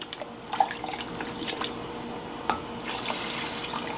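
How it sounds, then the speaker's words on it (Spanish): Water carrying dissolved pinole is poured into a pot for atole, heard as soft, steady trickling and dripping with a couple of brief splashes, fairly quiet and close, with no talk. "Al mismo tiempo voy a agregar el litro de agua con el pinole ya disuelto."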